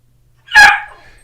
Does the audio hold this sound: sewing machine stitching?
no